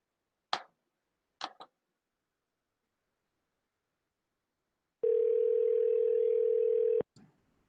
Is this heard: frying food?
no